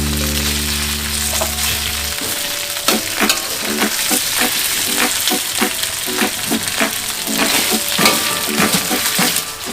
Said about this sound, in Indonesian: diaduk hingga sosis dan kornetnya semuanya matang